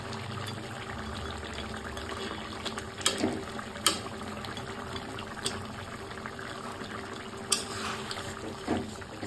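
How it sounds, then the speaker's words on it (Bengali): Vegetable curry broth bubbling at a boil in a pot as lentil fritters go in, a steady simmering hiss broken by a few sharper plops and splashes, heard close with no talk. "তো ঝোলটা আমার ফুটে আসছে,"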